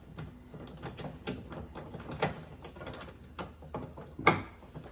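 Close, repeated ratcheting clicks come in an uneven rhythm as a nut is tightened during assembly of a Greenworks 80V 22-inch snow thrower, with occasional louder metallic knocks.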